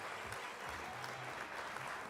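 Resounding audience applause at a women's awards gala, a continuous, even wash of many hands clapping at moderate distance, with a faint voice murmuring low beneath it.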